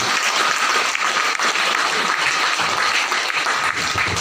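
Dense, sustained applause from a large audience celebrating an honoree at a corporate gathering, steady and loud throughout with no pauses.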